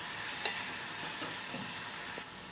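Tomato and cucumber fry in a pan under steady stirring, a continuous close sizzle broken by soft scraping strokes, with no talking.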